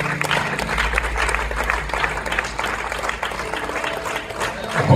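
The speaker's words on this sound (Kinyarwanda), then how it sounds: "dukomere Imana amashyi muhaguruke bose" A standing church congregation applauds to welcome a bride and groom at a Mulenge wedding celebration, a steady, dense wash of clapping lasting throughout with a low hum of voices and music underneath.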